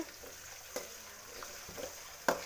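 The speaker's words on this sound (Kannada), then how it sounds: "ಟೊಮೆಟೊ ಇವಾಗ ಚೆನ್ನಾಗಿ ಬೇಯಬೇಕು." Tomatoes frying in a pan for puliyogare, with a low, steady sizzle broken by a few sharp stirring clinks and scrapes, heard close and alone with no voices.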